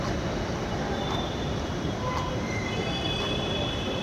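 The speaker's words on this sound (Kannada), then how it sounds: "ಸೊ ನನ್ನ ಮೆಟ್ರೋ ಟ್ರೈನ್ ಕೂಡ ತುಂಬ ಬೇಗನೆ ಬಂತು" A Bengaluru metro train at Indiranagar station makes a loud, continuous rumble and wheel roar, with faint squeals of the wheels over a dense, unbroken wash of noise.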